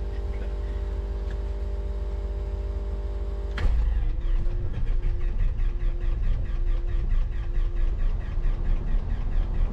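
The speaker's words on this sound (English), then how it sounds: "after a quick warm-up with the engine, as this morning's temperature was sub-30s" Piper Archer TX single-engine aircraft being warmed up on a sub-freezing morning: a steady engine drone, then a sharp jump in loudness to a stronger throbbing run with a faint rhythmic pulsing, heard from inside the cabin.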